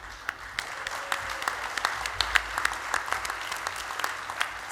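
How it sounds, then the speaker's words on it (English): An audience at an honorary fellowship awards ceremony claps steadily, with crisp individual claps over a soft bed of hands and no speech. "Let's give them all a round of applause."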